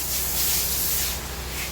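A soft wash sprayer hisses steadily as it coats the outside of a large house in a shady spot, a continuous close spray with no pauses.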